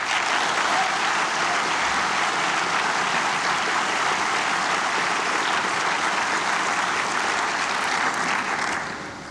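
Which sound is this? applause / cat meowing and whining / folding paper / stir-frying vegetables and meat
applause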